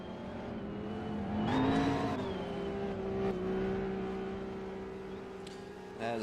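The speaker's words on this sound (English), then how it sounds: "As the top 3 in the NEST cars now making their way by." Race cars at the Turkish Grand Prix sweep past on the track, their engine whine rising in pitch as the loudest car nears, then holding a steady drone as others follow.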